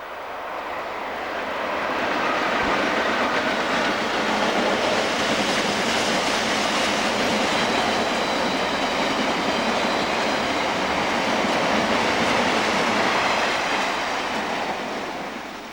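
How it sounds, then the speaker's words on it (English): A Freightliner freight train hauled by two class 86 locomotives and a class 90 passes, a loud broad roar that swells and holds steady for most of its length before easing slightly, with no voices. "two 86s and a 90 work the 4:55 Trafford Park to Felixstowe Freightliner."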